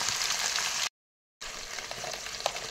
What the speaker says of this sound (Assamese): তাৰপিছত দি দিছোঁ মাংসখিনি মাংস ইয়াতে দি দিলোঁ